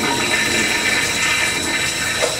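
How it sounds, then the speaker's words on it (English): A toilet flushes loudly and close up, a continuous rushing gush of water filling the whole moment without any talk. "I'm just flushing it. I don't want to wait for it to fill up."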